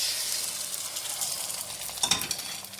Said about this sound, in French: Je vais commencer à mettre la farine que tout à l'heure j'ai déjà mélangée. Je vais mettre autour de la poêle.